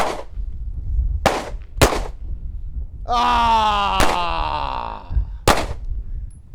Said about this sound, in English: smoothly, consistently press the trigger straight to the rear when you're ready and break another shot